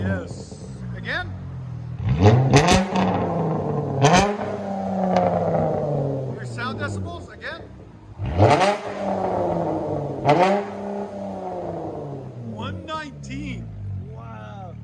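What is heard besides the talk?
2013 Dodge Charger GT V6 revving with straight pipes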